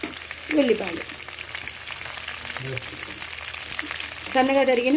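Sliced onions fry in hot oil in a home kitchen pan for a vegetable curry, giving a steady crackling sizzle with occasional stirring while someone speaks over it.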